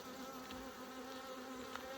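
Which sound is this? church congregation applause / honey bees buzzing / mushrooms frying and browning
honey bees buzzing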